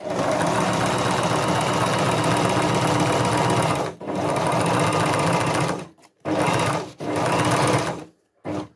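A Jomita portable walking-foot industrial sewing machine runs a zigzag stitch at full width, a loud steady mechanical whir with a fast rhythmic chatter that stops briefly near the end and then comes back in short bursts.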